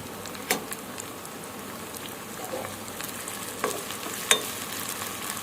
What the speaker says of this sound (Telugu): 1/2 స్పూన్ అల్లం వెల్లుల్లి పేస్ట్ వేసుకొని కలుపుకుందాం.